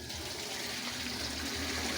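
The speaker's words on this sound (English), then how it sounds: "That wonderful water gushing sound and that beautiful reveal of the jet foam." Water gushes into a heavily loaded Frigidaire Rollermatic washing machine, a steady broad rushing flow that is loud and continuous with no talking.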